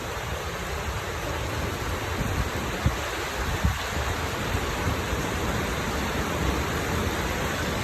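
Steady rain falls on a street in Riga, Latvia, a constant even hiss with a couple of faint knocks and no voices.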